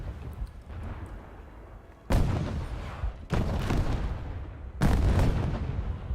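Naval gunfire from warships in a video game, three heavy booming shell impacts a second or so apart, each loud and sharp and ringing into a long rumbling tail over a low background.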